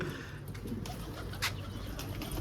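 Pigeons coo softly and repeatedly close by in a coop, their low throaty calls over a faint background hum.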